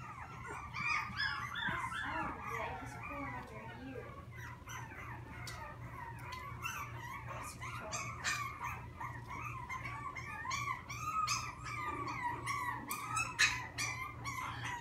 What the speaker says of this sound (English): Having just a little bit of a puppy fight in the playpen,